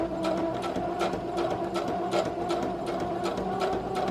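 A sewing machine stitches steadily, its needle chattering in a fast, even rhythm with small pauses and speed changes, close and moderately loud with no talk over it.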